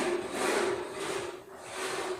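Muffled construction noise from workers in the ceiling of a house being built in Iloilo, Philippines: a continuous rasping, sawing-like sound in waves, with a steady tonal drone, heard from a short distance.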